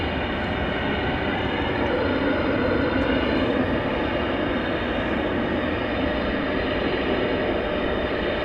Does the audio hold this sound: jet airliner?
yes